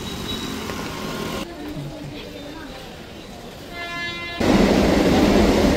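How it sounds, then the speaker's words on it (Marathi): Loud rumbling of a Kalyan-bound suburban train with broad mechanical roar, shifting abruptly in intensity as it rolls into Bhandup station, with brief talk nearby. "आपली ट्रेन आली बघा"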